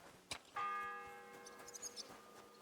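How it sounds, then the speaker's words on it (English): A single church bell strikes once in the medieval game Kingdom Come: Deliverance II, a clear ringing tone with a long, slowly fading hum after a soft knock, faint and distant, with small background clicks. "The first bell."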